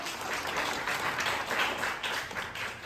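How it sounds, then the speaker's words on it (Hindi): An audience at an Engineers Day celebration at Engineers Club Dwarka applauds a speaker, a dense, continuous wash of many hands clapping at once, fairly loud and steady throughout with no clear speech. "शुभम जी के लिए तालियां बजा दें"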